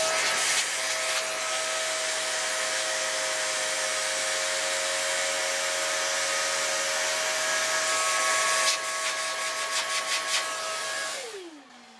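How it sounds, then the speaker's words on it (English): A vacuum cleaner sucks dust from a laptop's vent grate with a steady high-pitched whine for several seconds, briefly rattling, then powers down and winds to a stop. "Try that vacuum and see if we can get some more of this out."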